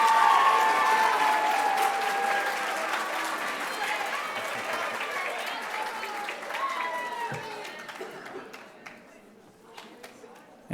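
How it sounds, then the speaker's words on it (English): A middle school awards night audience applauds strongly at first, a dense sustained clapping that gradually thins and fades toward the end, with crowd murmur mixed in. "Can we give one last round of applause"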